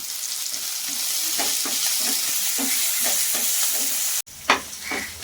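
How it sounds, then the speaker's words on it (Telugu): Tomatoes fry in a pan with curry leaves and coriander, giving a loud, close sizzle with rhythmic stirring scrapes. The sound cuts out briefly near the end, then returns with a few clatters. "చూడండి మనకు టమాటా అన్నీ వేగిపోయినాయి కదా"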